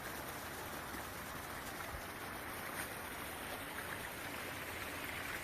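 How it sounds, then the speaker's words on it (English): A creek running through a dog park near a beaver pond gives off a faint, steady broadband rush of flowing water, continuous and unbroken with no voices. "it runs down the creek bed and all through the dog park"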